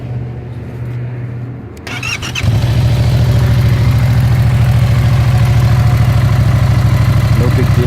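A 2016 Yamaha FZ-07 motorcycle fitted with an Akrapovic racing full exhaust and the dB killer still in place cranks briefly, then catches and settles into a loud, steady, close idle rumble.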